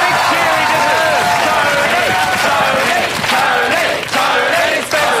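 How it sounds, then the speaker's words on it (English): A studio audience cheers and claps loudly and steadily for Tony Jones on a comedy show, a dense roar of voices and applause with shouts rising through it for the whole stretch. "Let's have some big energy for Tony Jones. Big cheer he deserves."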